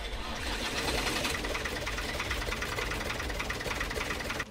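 A Universal 45 tractor engine cranked by a BlitzWolf BW-JS1 portable jump starter alone, running as a loud, steady, close diesel clatter that holds evenly until it cuts off abruptly at the end.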